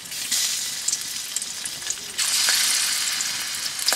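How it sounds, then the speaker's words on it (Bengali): Pangas fish pieces fry in hot mustard oil with a loud, close, continuous hiss that swells midway, alongside occasional faint scrapes and pops and no voices. "এখন আমি গরম তেলে পাঙ্গাস মাছ ভেজে নেব"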